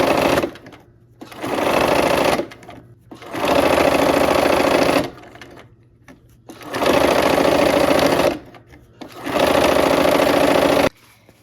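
A sewing machine runs two seams at a scant quarter-inch allowance in quilt piecing, with four loud, steady bursts of rapid needle chatter separated by short pauses.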